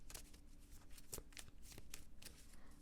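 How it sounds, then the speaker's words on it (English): Rider-Waite tarot cards, bendy and flexible, being shuffled by hand in a quiet setting, giving a string of soft, close riffling flicks and taps over a few seconds. "I will shuffle them a little bit"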